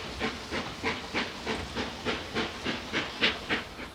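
A preserved British Railways Standard Class 4 steam locomotive, number 75078, chuffs and hisses in a rapid, even rhythm of exhaust beats, close and strong, with no voices.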